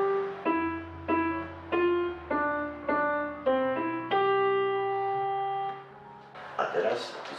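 Polish children's song "Wlazł kotek" played on a keyboard, a simple melody of clear, separate sustained notes with bass tones beneath, close and steady, ending in a brief noisy rustle.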